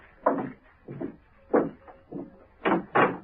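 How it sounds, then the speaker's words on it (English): Someone tries a locked door: a handle rattles and the door knocks in five or six short, separate bursts, fairly close, with quiet pauses between them. "She tried the door. It was locked."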